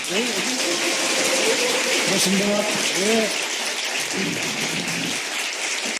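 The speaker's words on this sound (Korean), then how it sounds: "거기에 큰 역할을 한 본인이 그렇게 주장하는 도주관 의원님 박수 부탁드립니다." An audience applauds a lawmaker at a Korean political event with a broad, rain-like patter of many hands, while a speaker's voice carries on over the clapping.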